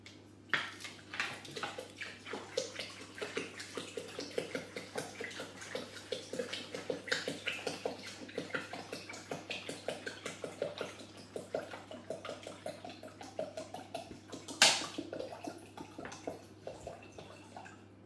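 Water is poured into a Thermomix bowl holding washing soda crystals and baking soda, about 1.5 litres in all, a steady close splashing trickle with small clinks, and one sharper knock near the end.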